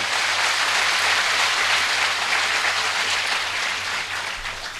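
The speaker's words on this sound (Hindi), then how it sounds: "एक बार पूरा सदन ढंग से तालियां बजाओ यार, पूरा" A full hall of audience members applauds at a comedy show, a dense steady wash of clapping that holds loud throughout and eases slightly toward the end, with no voices over it.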